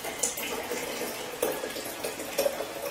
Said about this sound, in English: Then the rest here we can just fill up with water